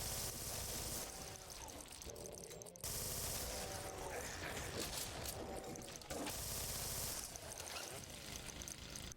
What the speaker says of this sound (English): The chain gun in this mod is an absolute beast and feels euphoric to shred through a gang of enemies with this thing.